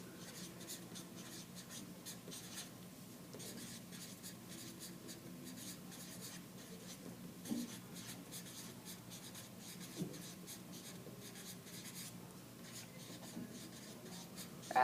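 Pen writing notes by hand on paper, soft continuous scratchy strokes with brief pauses and a few faint taps, quiet and close, with no speech.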